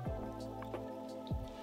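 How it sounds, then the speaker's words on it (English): Olive oil poured over raw chicken seasoned with chopped garlic, salt and black pepper, then mixed by hand, giving close, wet squishing and dripping sounds in short bursts with a faint tonal hum beneath. "Pour some olive oil and mix it."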